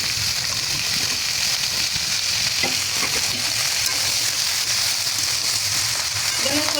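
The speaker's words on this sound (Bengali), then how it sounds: "এখন দিয়ে দিব আমার পাঁচমিশালি সবজি, শুটকি দিয়ে রান্না করলাম সবজি।" Mixed vegetables with dried fish and green chili fry in a pan, giving a steady, dense sizzle with light stirring scrapes throughout, close up and fairly loud.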